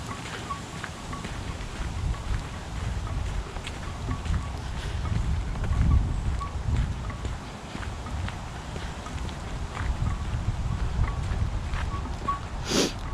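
Wind blows along the Ma & Pa Heritage Trail in Harford County as a steady, rumbling gusty roar, rising and falling across the whole stretch, with faint rustles and footsteps mixed in.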